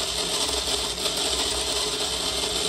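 Hand-cranked molinillo grinder crushing beans in a home in Coapilla, a loud continuous gritty grinding rasp that runs steadily without a break.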